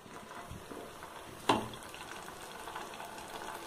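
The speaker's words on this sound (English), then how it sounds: "Let me deep fry these potato." Marinated potato kebabs (aloo kebabs) going into hot oil for deep frying, a soft bubbling sizzle with one sharp splash-like clatter midway, faint overall.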